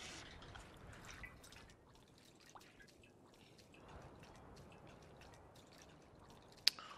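Fuel poured from a jerrycan into a vehicle in the Mad Max video game: a very faint, steady dribbling of liquid with a few soft drips, and a brief sharp click near the end.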